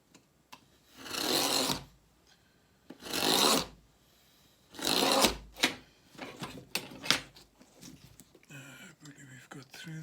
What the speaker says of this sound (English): I'm just going to take a blade and a ruler and just down the center, just cut through